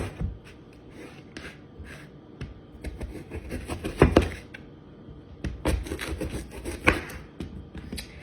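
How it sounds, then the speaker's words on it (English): A knife cuts sweet potato into fry shapes, giving close, quiet irregular chops and taps against a cutting board. "I cut the ends off, which is gonna make this shape, and then I just simply cut fry shapes."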